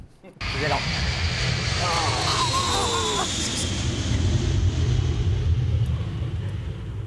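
An airplane flies overhead near a Paris airport, a loud, steady broadband roar with a faint descending engine whine that carries on for several seconds. A voice speaks briefly at the start.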